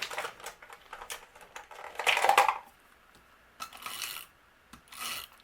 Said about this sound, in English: I'm going to use my tape runner.